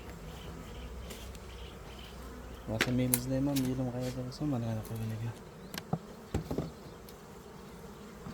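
Bees buzz around an open beehive, a steady hum swelling louder and closer as individual bees pass near, while someone talks over it.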